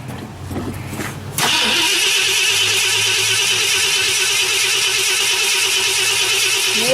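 A 1968 Ford Galaxie is cranked on a cold night with the hood off: a short grinding crank is followed by the engine catching and holding a loud, steady running roar close by, without any talk.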